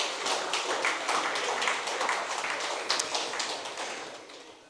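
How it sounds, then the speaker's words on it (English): Steady, crisp applause from an audience at a farmers' awards ceremony, dense hand claps at a moderate distance that hold evenly and taper slightly toward the end, with no voices over them. "give her another round of applause, please"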